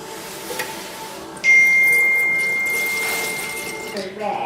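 Water runs from a kitchen tap into a container, a steady stream that starts abruptly and keeps flowing, fairly close and loud, with a few small clicks around it.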